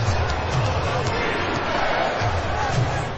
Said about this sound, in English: Realistic crowd reactions during the game and arena-specific chants all lead to a much more immersive game.